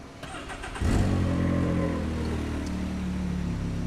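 A Can-Am X3 side-by-side with a Rotax engine, freshly ECU-tuned, cranks briefly and fires up, then settles into a steady, close, loud idle with a low mechanical hum.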